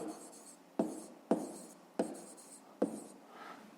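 Handwriting a fifth-grade math exercise on paper, with pen strokes scratching steadily and four sharp taps as the pen lands, close and fairly quiet, with no voice.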